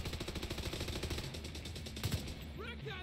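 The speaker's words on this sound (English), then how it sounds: "I keep shooting this DK fellow, but he just keeps healing" Automatic gunfire in the video game The Division 2, a sustained rattle of rapid shots filling the whole moment, loud and dense with game effects layered on top.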